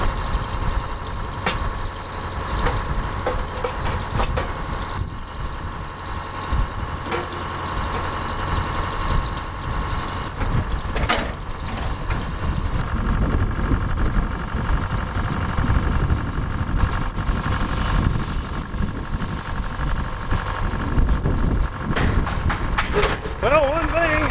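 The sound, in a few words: 57-year-old tractor engine idling after warming up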